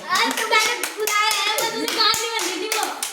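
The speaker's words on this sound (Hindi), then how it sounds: "तो अनु के लिए एक बार ताली तो बजा दो।" A group of children claps for a girl after a team challenge, sharp uneven hand claps in quick bursts, mixed with children's voices chattering and calling over them.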